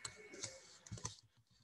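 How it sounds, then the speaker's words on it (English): Quiet computer keyboard typing: a few scattered, soft key clicks in an irregular rhythm, close by, with no talking. "I'm typing here"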